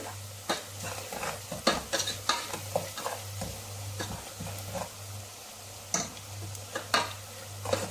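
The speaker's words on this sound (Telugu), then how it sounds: "ఎండు పొడులు కదా, తొందరగా ఫ్రై అయిపోతాయి." Dry spice powders fry in hot oil in a pan for tomato chutney. A spoon scrapes and stirs in repeated strokes over a steady close sizzle, with a low constant hum underneath.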